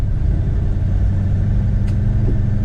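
A 1969 Dodge Charger SE General Lee tribute car with its engine running, a loud, steady low rumble heard close up, continuous throughout with no talking.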